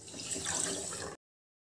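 Water pours into a bowl for sugar syrup, a steady splashing stream for about a second that stops abruptly, close and alone with no voices.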